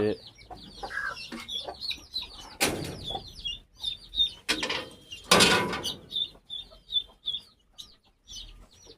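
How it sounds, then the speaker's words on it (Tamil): Close by, a hen cackles loudly in a rapid repeated series after laying eggs, mixed with clucks, a couple of bursts of flapping wings or rustling, and someone talking nearby. "இவ முட்டை போடுற அலாட்ட தெரியுது"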